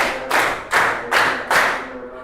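Rhythmic hand clapping by a group in a classroom concentration routine, four to five sharp, evenly spaced claps, close and loud.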